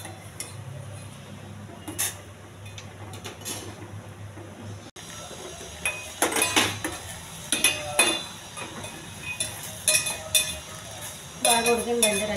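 A spoon scrapes and clinks against a cooking pot in irregular bursts while red rice is stirred as its water boils off, heard close up, with a low kitchen hum beneath.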